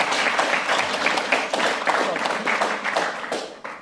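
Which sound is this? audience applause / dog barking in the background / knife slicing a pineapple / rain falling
audience applause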